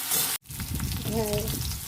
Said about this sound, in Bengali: এবার আমি ঢ্যাঁড়সটা ভেজে নেব।